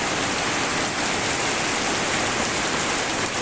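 Heavy rain mixed with wind falls over Liwa, West Lampung, heard as a short, constant wash of dense rushing noise, close and uniform, with no speech.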